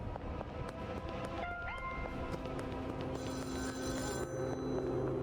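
A phone rings in the Schedule 1 video game with a repeating electronic trill, moderately loud over steady background game ambience and music, with no talking.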